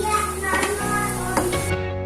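Chicken and egg filling being stirred in a hot pan with sizzling underneath, a few scraping strokes of the spoon over steady frying noise, close and moderately loud.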